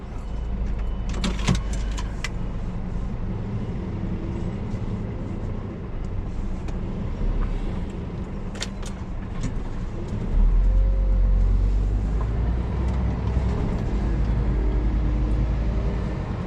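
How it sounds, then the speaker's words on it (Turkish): A Scania truck's diesel engine starts up and settles into a steady, loud low idle rumble, preceded by a few clicks and clunks inside the cab before ignition. "Aracı çalıştıralım."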